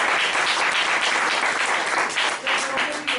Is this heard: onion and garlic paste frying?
no